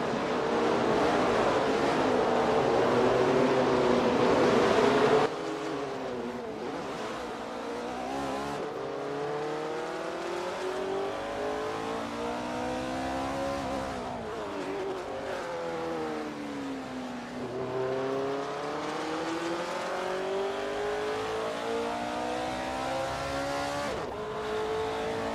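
Race cars roar through a racing video game, engines droning with rising and falling pitch sweeps as cars rev and pass, loud and continuous throughout with a louder opening stretch.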